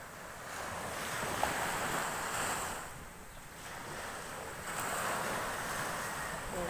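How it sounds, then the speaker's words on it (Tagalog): Calm sea waves wash gently onto a beach, a soft, quiet surf rising and falling in slow swells with light wind noise. "Very calm ang dagat. Kalmado lang ang dagat."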